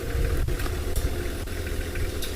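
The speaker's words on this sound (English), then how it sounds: "so you might hear a vehicle in the background" Safari vehicle engine idling steadily in the background at a dam on a cool morning, a continuous low rumble with faint periodic ticks and no talk.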